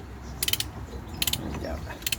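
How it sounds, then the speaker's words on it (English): A hand ratchet tightening a car's wheel hub nut, heard as three short bursts of quick metallic clicking separated by brief pauses, close and fairly quiet against low background noise. "Just gonna try and wind this hub nut back on."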